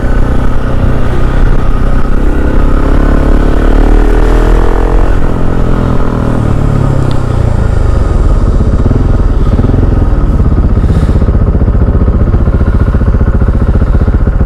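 A KTM 690 SMC R supermoto motorcycle being ridden, its single-cylinder engine loud and close, droning and revving continuously with rising and falling pitch through the gears.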